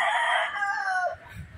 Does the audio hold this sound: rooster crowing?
yes